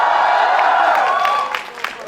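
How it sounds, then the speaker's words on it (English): A live audience cheering and applauding, a dense loud wash of crowd noise that thins out toward the end with a few scattered claps. "They've been cheering."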